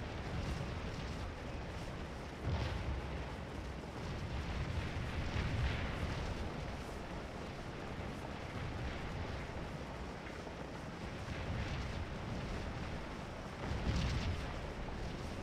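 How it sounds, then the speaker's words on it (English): Canister artillery fire in the Scourge of War: Antietam battle game, a rolling rumble of heavy booms with several louder bursts amid continuous distant battlefield noise. "Just turned around to see that unit get lit up by some canister fire."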